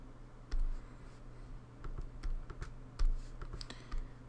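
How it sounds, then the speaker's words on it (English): A computer keyboard's keys are pressed in scattered, close clicks over about four seconds, some taps louder than others, against a quiet room hum. "So that's D on the keyboard."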